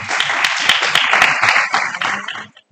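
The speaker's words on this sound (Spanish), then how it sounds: "un fuerte aplauso para ella, por favor" Loud audience applause at a neuroscience gathering, a close burst of clapping from the crowd that tapers off and stops after a couple of seconds.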